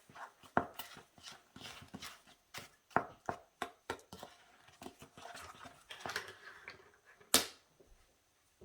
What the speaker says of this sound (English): always give your dry ingredients a quick little stir together